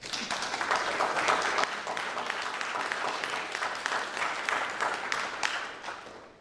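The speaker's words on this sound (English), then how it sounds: "Give yourselves a great big round of applause." Members of a Unity church congregation give themselves a big round of applause, loud, sustained clapping from many hands that swells early and tapers off at the end.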